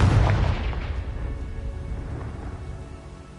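The Confringo explosion spell goes off in a Harry Potter video game as a single deep, loud boom at the start that rumbles and fades slowly over a few seconds.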